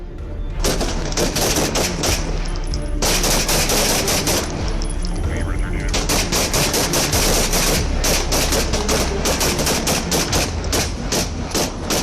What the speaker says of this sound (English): 3 officers quickly responded, returning fire decisively.